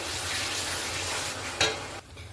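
Chicken with turmeric stirred and frying in a pan, a steady close sizzle with a brief scrape of the spoon near the end before the frying quiets slightly.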